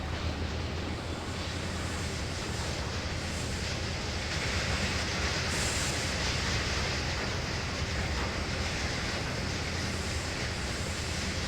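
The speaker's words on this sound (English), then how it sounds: "I'm going to bring the speed up on the train a bit." Simulated train in the Trainz railway game picking up speed, a steady broadband rumble and rush of wheels and motion running continuously at an even level with no voices.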